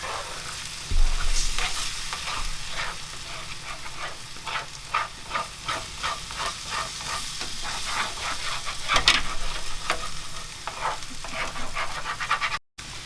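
Eggs scrambled in a pan with bacon, onions, squash and potatoes, with a continuous close sizzle broken by repeated scraping and stirring strokes throughout.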